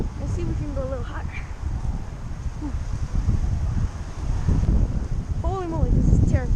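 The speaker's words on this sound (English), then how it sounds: "There's so much wind here, like the whole entire tree is shaking" Strong wind buffeting high up in a swaying tree, a steady roaring rush with rustling and microphone buffeting that builds toward the end, with birds chirping faintly and no talking.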